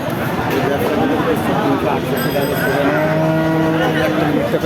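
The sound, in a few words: cattle at a livestock market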